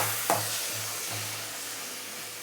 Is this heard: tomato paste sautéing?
yes